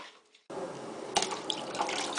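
Water pours steadily into a soup pot with mixed spices, a continuous splashing fill that begins abruptly after a brief quiet start and carries on alone.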